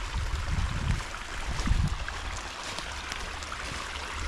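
Water flows through a rain-fed ephemeral creek on a rural property, a steady close rushing wash with a few deeper gurgling surges early on, no talking.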